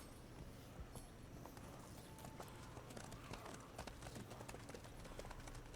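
Horse hooves gallop in a steady, dense clip-clop in The Witcher 3, carrying on through the whole stretch under a busy game soundscape, with no clear talk.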